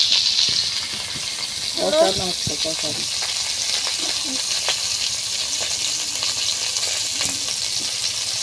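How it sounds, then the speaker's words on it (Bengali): Potatoes and jackfruit frying in a pan make a steady, moderately loud sizzle throughout, with a few brief clatters of stirring near the start. "ধীরে ধীরে আলু দিয়ে আর কাঁঠাল দিয়ে রান্না করছি"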